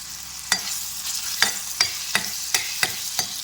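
Crushed garlic frying in a pan with a steady sizzle, broken by about seven sharp scrapes and clacks from a utensil stirring it at roughly even intervals.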